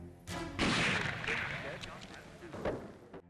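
Single sharp rifle shot from a Soviet sniper in a World War II Stalingrad documentary, a loud crack followed by rolling echo and battle rumble, with further distant bangs near the end.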